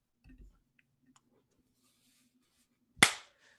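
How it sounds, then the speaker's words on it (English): One sharp, loud hand clap rings out near the end after a mostly quiet stretch with faint small noises, marking the start of a recording. "we're gonna start after I clap"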